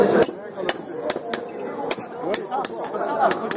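A blacksmith's hammer striking iron on an anvil, sharp ringing blows in a steady rhythm with a few extra taps beside the work, close and loud while someone talks.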